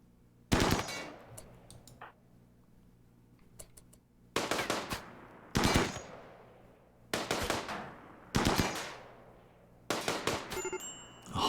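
Gunfire in the Space Pirates and Zombies game, heard as separate loud bursts of rapid shots spaced a second or two apart, with quiet gaps between them and no talking.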